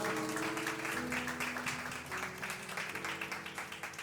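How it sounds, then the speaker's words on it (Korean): Church congregation applauding during a worship service, faint clapping in a reverberant hall mixed with sustained music and chatter underneath. "우리 모두 하나님께 영광 박수 올려드리도록 하겠습니다."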